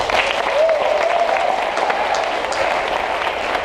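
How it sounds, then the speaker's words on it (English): Applause from an audience at a corporate volunteer event, steady crowd clapping filling the room with a faint cheer or voice rising briefly near the start. "A round of applause."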